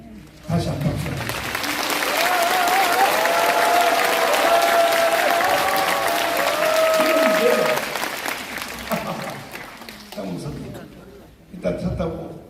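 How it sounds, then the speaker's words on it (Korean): Applause from a crowd at a rally in Busan rises sharply and holds for several seconds as a full, sustained clapping roar, then tapers off. A voice sounds over the clapping, and more talk follows as it fades. "다시 한 번 박수."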